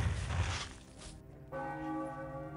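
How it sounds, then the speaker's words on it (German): Church bell from The Settlers 4 rings out in two clear bell strikes, the second starting with a bright ringing tone that hangs and fades, with no voices. "Ding dong, Kirche."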